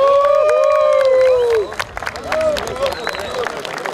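Cheering and scattered clapping from a crowd at a blind football awards gala in Bacău, rising after a long sustained tone and continuing as mixed hubbub with voices through the rest.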